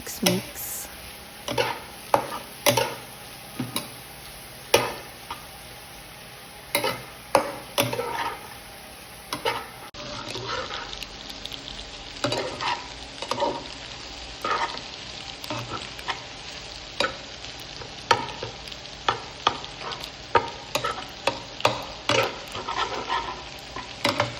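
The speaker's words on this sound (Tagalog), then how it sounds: "And then I added the giniling, the ground pork. And then mix." Ground pork and sliced bitter gourd are stirred in a frying pan with an egg and ground pork sauté, giving repeated scraping strokes over a steady sizzle that continues throughout without any talk.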